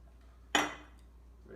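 Warm water used to preheat a coffee mug is tipped out into a sink in one brief splash that fades quickly in a quiet kitchen.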